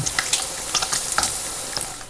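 Chopped pork fatback sizzles and crackles steadily in a pan as it renders, with small irregular pops over a constant frying hiss.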